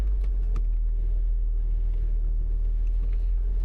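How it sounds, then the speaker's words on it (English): Isuzu ELF van engine idling low in first gear while creeping over snow and ice, a steady close rumble throughout with no talking. "So I've locked it into first gear now, so I don't have to use the brakes"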